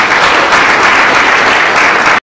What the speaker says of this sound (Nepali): हामी कसैर ताली बजाउन सक्छौँ।